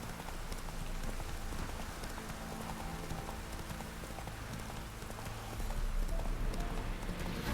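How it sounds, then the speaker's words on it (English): Steady clip-clop of horse hooves trotting in The Witcher 3 video game under a dense, noisy wash of sound, continuous throughout without talk. "Beautiful horses."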